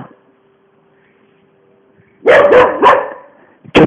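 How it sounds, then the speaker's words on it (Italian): Dogs on a garden terrace let out a quick run of several loud barks after a near-silent stretch, followed by one more short bark at the end. "per fortuna che abbaia solo uno"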